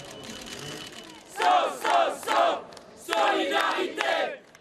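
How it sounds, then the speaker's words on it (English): A crowd outside a courthouse at night chants in solidarity with refugees, rhythmic bursts of many voices shouting in unison, rising and falling in repeated phrases over steady background murmur. "The crowd chants solidarity for refugees into the night."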